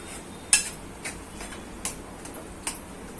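A utensil stirs paneer and eggplant bharit in a pan, with soft steady scraping and a few sharp metallic taps against the pan over a faint background hiss.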